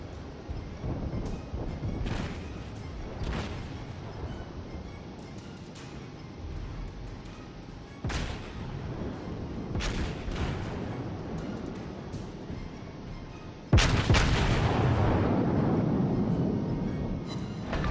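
Battleship turret guns fire in World of Warships from an American USS South-class ship: a series of heavy, spaced booms rolls out over a low ambient hum, ending in a louder, closer salvo with a lingering rumble and no talk.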